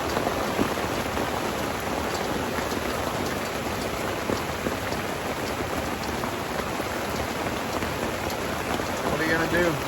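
Storm rain pours down outside a solo Jeep camp on an abandoned airstrip during a tornado warning, a dense, unbroken hiss of drops drumming on surfaces, loud and steady throughout.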